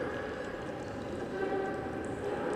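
A train pulling in within the video game BATDR, heard as a steady rumbling rail drone with faint tonal hums, fairly loud and continuous without talk.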